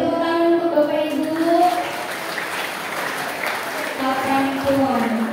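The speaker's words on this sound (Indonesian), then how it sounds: "Tepuk tangan untuk Bapak Ibu" An audience at an Islamic hypnotherapy seminar claps steadily for several seconds while a voice keeps talking over the applause through most of it.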